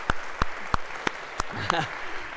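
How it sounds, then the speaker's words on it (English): A lecture-hall audience at a computer science class gives sparse applause, with a handful of sharp, evenly spaced claps standing out clearly while someone talks briefly underneath. "A round of applause if we could."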